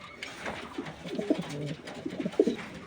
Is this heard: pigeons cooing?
yes